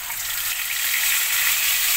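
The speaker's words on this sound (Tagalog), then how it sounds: "Pritong bangus" Milkfish (bangus) frying in hot oil, a loud, continuous bright crackling sizzle heard close up with no pauses and no talking.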